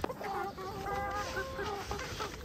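Chickens clucking on a farm yard, several birds making short, overlapping clucks and drawn-out calls at close range, steady and fairly quiet with no talk over them.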